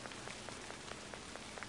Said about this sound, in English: it appears to be raining every day.